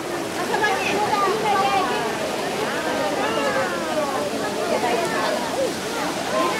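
People bathe in the hot spring pool at Hamat Gader, Israel. Steady splashing and sloshing water runs throughout, with voices talking over it.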